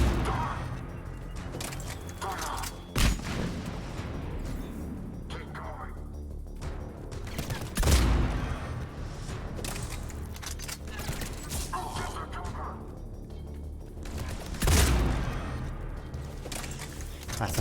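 Shotgun blasts in Mass Effect 3 Legendary Edition on Insanity difficulty, a few heavy booming shots spaced several seconds apart under near-constant talking.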